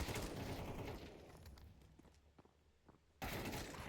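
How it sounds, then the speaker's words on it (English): Auto shotgun firing during a competitive Counter-Strike match at a bomb site, heard as bursts of loud in-game gunfire that open the clip, drop to quieter scattered shots and steps, then return sharply near the end. "Here's the power of the auto shotgun!"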